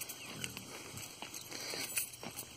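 A Pietrain pig moves among horses on a farm, giving soft scattered grunts and shuffling steps over a steady background of insect-like whine, with no speech.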